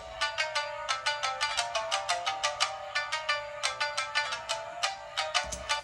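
Layered guitar hook played through an amp and cab simulation without a vintage mod pedal: a bright, rapid stream of evenly spaced plucked notes in a steady repeating pattern, clean and fairly quiet.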